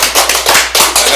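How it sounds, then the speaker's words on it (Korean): An audience at a Korean lecture on the Scottish Reformation claps together, a dense, loud burst of applause that comes in close rhythmic waves for about a second. "다 같이 박수."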